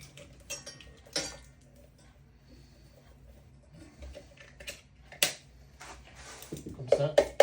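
Close-up metallic clinks and taps as a can of white beans with its juice is emptied into a saucepan, scattered and irregular, with a wet slide and clatter near the end.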